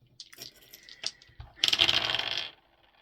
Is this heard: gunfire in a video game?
no